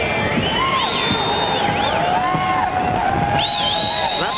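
Boxing arena crowd roaring and screeching at two fighters in the ring, a dense, loud, continuous wall of shrill voices with rising and falling whistle-like tones, and a commentator talking over it.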